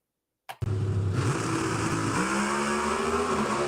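Greg Anderson's drag race car launches hard down the track with a sudden loud engine roar, front end hiked up, the tone rising steadily as it pulls away.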